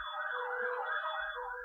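A fire engine siren arriving at a fire wails continuously, with smooth rising and falling sweeps, fairly faint and distant, accompanied by a low vehicle rumble and no speech.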